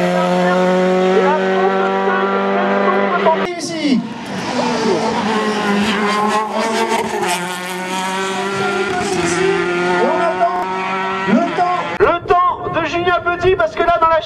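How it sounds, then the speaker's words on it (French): A race car brakes hard on a hill climb course in Gavray, its engine wailing loudly then dropping in pitch as it slows, with tyre noise and a commentator talking throughout. "Eddy Ravenel arrive devant nous, au freinage"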